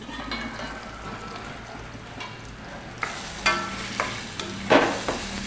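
Okra and green chillies fry in a pan with a continuous hiss that grows brighter halfway through, broken by several sharp spattering pops and stirring knocks, close and fairly loud, with no talking.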